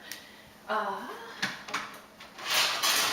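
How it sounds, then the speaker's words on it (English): Non-stick and aluminum baking pans are pulled from a kitchen cupboard, making a few clanks and scrapes with a cupboard door knock, while someone talks over it. "I'm gonna go ahead and get my pans out so they're ready to go ahead and just drop in little balls"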